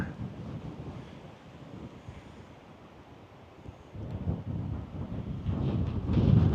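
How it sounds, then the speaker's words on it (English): Strong wind gusts up a mountain slope and buffets the microphone with a rough, rumbling roar that builds and grows louder toward the end, with no voices. "the wind is really blowing up the slope here"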